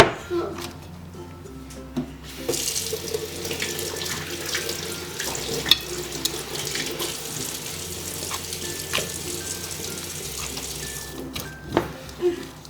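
Tap water runs steadily into a home kitchen sink while a child washes hands before baking cookies. The hiss is continuous and close, with soft voices in the background.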